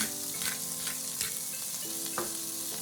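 Asparagus sizzles steadily in a frying pan, close and constant, with occasional stirring scrapes and no voices.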